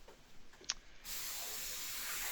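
Spray foam from a DIY spray foam kit starts after a second of faint background and a few soft clicks, becoming a steady, fairly quiet hiss that continues to the end.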